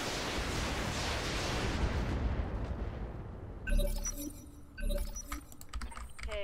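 Weapons firing in the mech game Roguetech: a dense roar of launched fire fades, then sharp impact bursts and crackling hits ring out nearby, with no talk.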